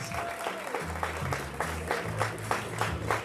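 An audience at a hypnosis show during a high school after-prom party claps steadily in a sustained round of applause, with low music and some voices underneath.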